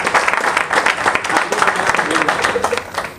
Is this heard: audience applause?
yes